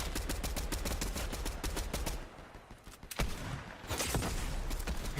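Rapid gunfire in a Fortnite match as several players trade shots with an NPC ally firing back, dense bursts of automatic fire and single cracks at close range, filling nearly the whole stretch with a brief lull before resuming.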